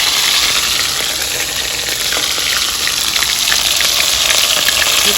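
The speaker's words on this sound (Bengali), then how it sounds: "এগুলো দিয়ে দেবো, আদা বাটা, পেঁয়াজ রসুন বাটা," Ginger, onion and garlic paste frying in a pan for a village-style chicken curry with taro, giving a steady loud sizzle and hiss throughout, close up with no talk.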